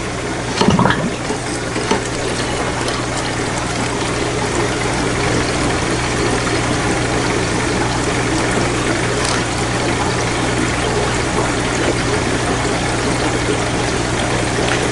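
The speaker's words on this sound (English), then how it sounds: "I'm going to use just a basic aquarium siphon to start, hover over the sand and the rocks and the wood" A basic aquarium siphon runs over sand, rocks and wood in a tank, giving a steady, close watery rush and gurgle of pumped water with no voices.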